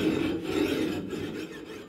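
Hand file rasping along an axe blade to restore a wrongly ground edge, a close, continuous scraping stroke with a slight squealing edge, steady and unaccompanied by talk.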